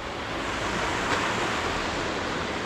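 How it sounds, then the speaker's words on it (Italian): Water rushes and pours down on all sides in an Alpine valley, a loud, steady broadband roar of falling water that holds unbroken with no pauses. "L'acqua viene giù da tutte le parti"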